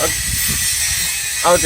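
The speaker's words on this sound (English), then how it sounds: "I don't know if you can hear anything because of that grinder in the background" A loud, continuous high-pitched mechanical whine runs throughout, with a person briefly speaking near the end.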